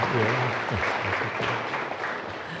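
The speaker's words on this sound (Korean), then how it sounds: "한번 위로의 박수 한번 좀 보내주시겠어요?" A church congregation at Sunday worship applauds in comfort for a bereaved member, even steady clapping filling the room while a voice talks faintly beneath.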